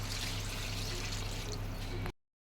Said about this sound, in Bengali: এবার আমি জল ঢেলে দিলাম